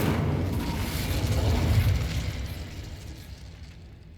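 A fire spell bursts in the Hogwarts Legacy video game, a loud roaring whoosh of flame swelling for a couple of seconds and then fading out, with no talking.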